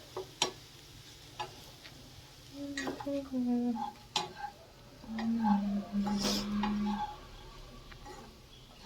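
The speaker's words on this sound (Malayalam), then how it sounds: "ഈ വേവിച്ച് വെച്ച ചിക്കൻ ഇതിലേക്ക് ഇടുകയാണ്. ഇതൊന്ന് മിക്സ് ചെയ്യുക." Boiled chicken being stirred in a pan over a low flame for cutlets: a spoon scrapes and taps against the metal in irregular strokes, with sharp clinks and a faint sizzle underneath.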